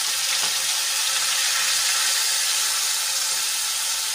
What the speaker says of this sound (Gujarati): તો એમાં આપણે 2 ખમણેલી ડુંગળી એડ કરી લઈશું.